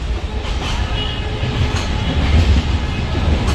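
Inside a nearly empty moving passenger train, a loud constant rumble with rhythmic wheel clatter and carriage rattle.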